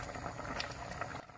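A pot of southern Thai sour curry with vegetables bubbles at a steady, busy boil, a close, constant wash of popping and gurgling that quiets slightly at the very end.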